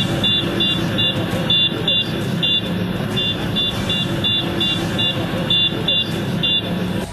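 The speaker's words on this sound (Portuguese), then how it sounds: "Colegas de trabalho do motorista protestaram com um buzinaço." Bus drivers honking horns in protest in Belo Horizonte, a loud repeated horn pattern blaring over street noise and traffic rumble.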